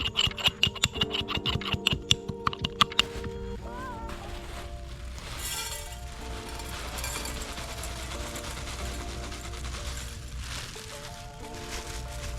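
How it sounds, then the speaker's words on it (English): Poha is ground at a cold-weather solo campsite: a few sharp mechanical clicks come first, then a steady, moderately loud grinding whir runs to the end. "Let's grind it."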